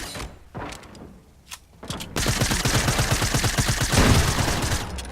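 Sustained automatic gunfire in a video game: sparse thuds at first, then a dense, loud, rapid stream of shots for about three seconds.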